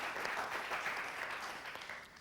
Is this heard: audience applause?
yes